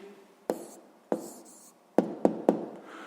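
A pen writes an answer by hand for a sixth-grade math exercise, making soft scratching strokes and several sharp taps on paper, close and quiet, with no talking.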